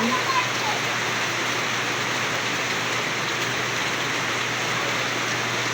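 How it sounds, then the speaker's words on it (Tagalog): Dense, steady roar of heavy rain pouring down without pause, close and loud throughout. "Lumakas na naman yung ulan."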